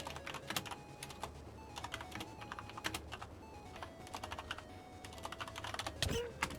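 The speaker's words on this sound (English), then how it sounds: "I was typing funny shit." Rapid, uneven clatter of fingers typing on a computer keyboard during a Minecraft SMP session, close and steady with bursts of keystrokes and a louder flurry near the end, with no talking.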